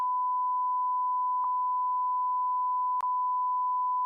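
A censor bleep covers spoken words as one steady, loud sine tone that runs unbroken for about four seconds, with two faint clicks partway through.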